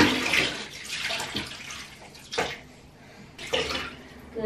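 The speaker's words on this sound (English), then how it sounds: "Splish splash, we were having a bath." Bath water sloshing and splashing around a young child in a home bathtub, coming in uneven surges with quieter gaps, close and moderately loud.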